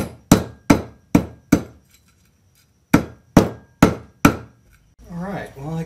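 Hammer crushing slag from a gold ore fire assay, sharp close blows in two quick bursts of four strikes, each ringing out before the next, followed by a brief voice.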